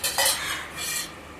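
A spoon scrapes and stirs a mixture around a metal pan while making popcorn at home, in steady continuous scraping strokes up close with no talking.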